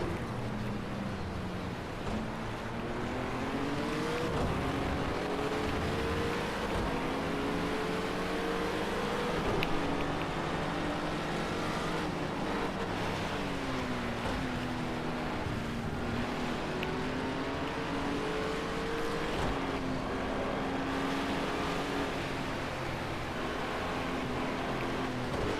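Race car engines roar through a racing video game, GT4-class cars howling with rising and falling pitch as they shift gears, a continuous loud drone with overlapping cars.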